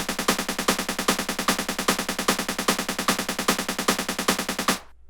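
A louder snare drum from an OP-Z synthesizer strikes on every count, a fast, even, sharp run of hits that stops abruptly near the end.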